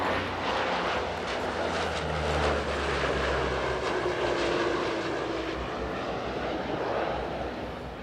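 A Polish Air Force C-130 Hercules flies a display at the 2023 Leszno airshow, its engines a steady, broad roar that swells and eases slightly while holding strong throughout, with no voices.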